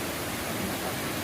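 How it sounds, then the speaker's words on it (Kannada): Tule Falls rushing as a steady, dense roar of falling water, loud and close, with no voices over it. "ತುಲೆ ಪಸೂಡಿ ಗುಂಪೆ ವಾಟರ್ ಫಾಲ್ಸ್"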